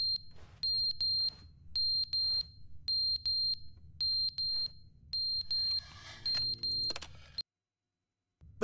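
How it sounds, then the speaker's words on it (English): A smoke alarm with failing batteries gives a series of bright, high-pitched beeps in regular short bursts over a faint low hum, then falls silent near the end. "The smoke alarm batteries."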